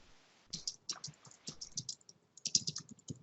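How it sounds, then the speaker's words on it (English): Fast, irregular clicking of keys on a computer keyboard, close and clear, in short bursts with brief pauses, no voices. "I'm typing it up as well."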